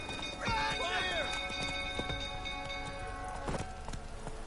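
In the Witcher 3 video game, a horse's hooves clip-clop at a gallop amid fire and commotion, with a whinny near the start and rhythmic hoofbeats at mid distance, under voices.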